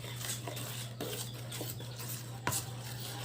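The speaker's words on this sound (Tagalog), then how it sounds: "halo lang natin ng maigi ayan bango ng kape oh" A spoon stirs coffee in a pot, making soft scraping swirls and a few sharp clinks against the side, close and quiet over a low steady hum, with no one speaking.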